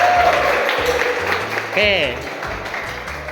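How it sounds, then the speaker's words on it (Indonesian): Applause from a seminar or classroom group at the end of a silent line-up icebreaker, a steady broadband patter that runs the whole time while a voice speaks briefly over it. "Oke, tepuk tangan untuk kita semuanya."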